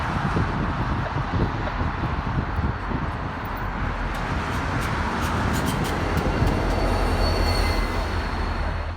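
Reedville Switcher train on the Grand Junction branch in Cambridge, Massachusetts, passing at close range: a steady heavy rumble of wheels and rail cars with thin metallic squeals, holding loud and unbroken the whole way.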